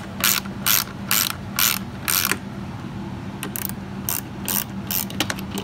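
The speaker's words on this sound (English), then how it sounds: "go ahead and snug everything down" Ratchet wrench snugging down bolts while lights are fitted to a 2019 Polaris RZR XP UTV, loud repeated bursts of rapid clicking separated by brief pauses, with no talk.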